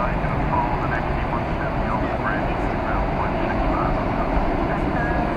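A British Airways Airbus A380 jet at DFW Airport, heard as a steady mid-distance rumble and hum of engines and airport machinery, with a few faint whistling tones over it.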